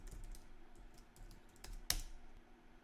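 Typing a username and password on a computer keyboard: quiet, close key taps in a brief irregular run, with one sharper louder keystroke near the end.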